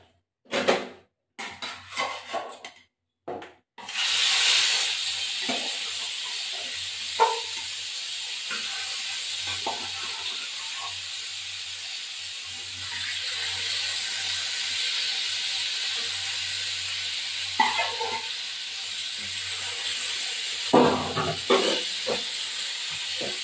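Hilsa fish fries in hot oil with a steady hiss and sizzle after a few clattering knocks and bumps at the start, with occasional clinks from a pan along the way.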